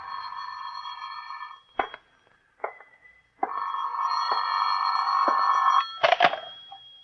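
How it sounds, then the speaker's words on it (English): An old-time radio drama telephone rings in repeated bursts with short pauses between them, close and fairly loud, with no talk over it. "Phone's ringing, Johnny."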